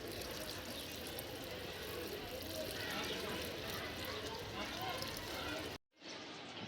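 Water pours steadily onto the base of a tree in a continuous, hissing wash, moderately close. The flow stops abruptly near the end before a faint background returns.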